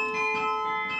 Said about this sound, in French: le Beffroi de Bergues peut enfin faire résonner ses 50 cloches